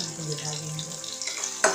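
Steady sizzling of garlic and green chillies frying in a pan, with a brief scrape or clatter of stirring near the end.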